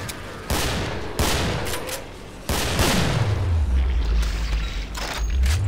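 Dense, loud gunfire in the video game Killing Floor, a steady barrage of overlapping shots and booms with deep rumbling impacts that continues through the whole stretch.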